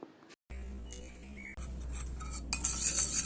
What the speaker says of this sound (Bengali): লেবু রসের সঙ্গে ভালো করে মধুটা আমি মিক্সড করে নিয়েছি